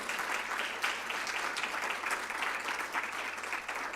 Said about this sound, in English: give Dr. Sood a big round of applause as well for being here.